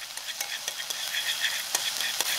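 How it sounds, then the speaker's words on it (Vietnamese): Shallots and garlic fry in a little pork fat in a small clay pot, giving a soft, continuous sizzle dotted with quick crackles and light pops, close by and with no talking. "Cho một chút mỡ vừa xào vào nồi đất. Sau đó mình cho hành tỏi vào phi thơm."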